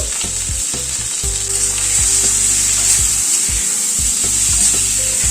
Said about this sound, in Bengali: নুন হলুদ দিয়ে আলু আর উচ্ছেটাকে ভেজে নেব আগে।